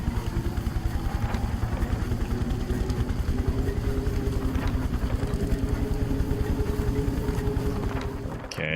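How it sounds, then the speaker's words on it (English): An engine running in the adventure game The Book of Unwritten Tales: The Critter Chronicles, a steady low rhythmic chugging hum at even level throughout, ending in a brief click. "You hear that engine?"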